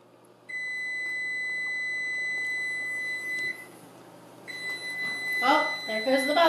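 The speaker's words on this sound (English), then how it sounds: "there goes the buzzer." A kitchen timer for baking bread buzzes in two long, steady electronic tones with a short gap between them, and a person speaks nearby during the second tone.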